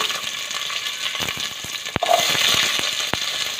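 Chopped onions tipped into a hot frying pan with a handful of cashews while making coconut milk rice, giving a close sizzle with scattered clicks and clatter, no voices.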